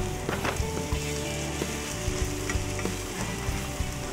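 Matzo brei eggs frying and scrambling in a pan, a steady close sizzle broken by light scraping stirs and small crackles, with no voices.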